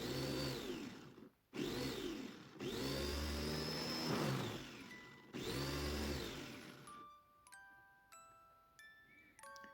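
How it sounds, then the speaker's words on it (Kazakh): An electric chopper grinds onions with a little water, its motor whirring loudly in several close bursts of one to three seconds with short pauses between, then stopping, leaving quiet clinks and light kitchen handling noise. "Енді осындай пияздарымызды шопперге салып, кішкене су құйып жіберіп,"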